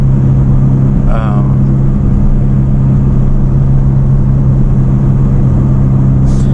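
A 2016 Hyundai Veloster Turbo with a 1.6 liter turbo engine pulls hard under acceleration, a loud steady cabin rumble and engine drone throughout, with a short voice burst briefly over it.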